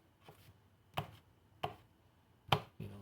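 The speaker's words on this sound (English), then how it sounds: "Now you want to cut your wieners up." A knife chopping hot dog wieners into pieces on a cutting board: four crisp, separate knocks spaced irregularly about half a second to a second apart, close and fairly quiet, with no talking.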